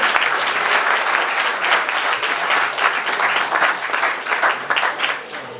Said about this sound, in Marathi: त्यांच्यासाठी जोरदार पुन्हा एकदा टाळ्या